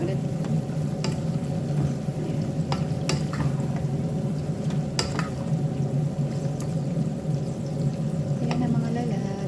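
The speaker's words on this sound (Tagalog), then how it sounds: "Haluin natin ulit." Okra and vegetables in tomato sauce get stirred in a pan. A steady close sizzle runs throughout, with a few light utensil scrapes and clinks.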